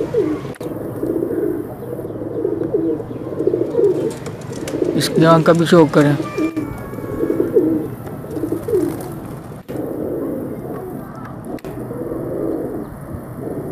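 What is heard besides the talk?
pigeons cooing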